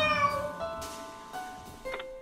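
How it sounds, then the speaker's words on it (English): A cat in the video game Lone Survivor meows several times in quick, bright, tonal calls, each short and clear, with a final higher chirp near the end. "Give him the goddamn cat food, Cecil."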